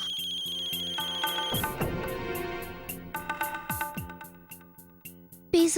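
A mobile phone ringtone plays a repeating electronic melody for an incoming call, moderately near and steady in rhythm, alone without talk, ending with a sharp click.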